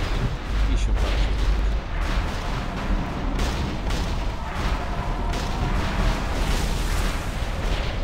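Dense, continuous booming cannon fire rumbling through a video game raid battle, heavy low thuds overlapping with a chaotic roar and brief voices beneath.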